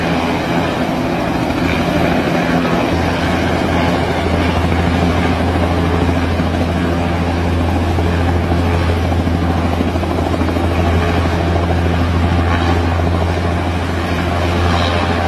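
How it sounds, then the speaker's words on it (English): A helicopter close by during a hard landing and takeoff produces a loud, unbroken rotor and engine drone with a deep steady throb that persists the whole time, alone without speech. "The pilot made the hard landing for the shot and then took off again."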